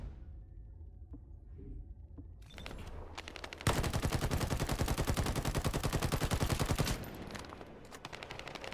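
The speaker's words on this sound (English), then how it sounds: "Caligo's Horn assault rifle." Caligo's Horn assault rifle in The First Descendant fires a loud, sustained burst of rapid automatic shots for about three seconds, with quieter game noise before and after.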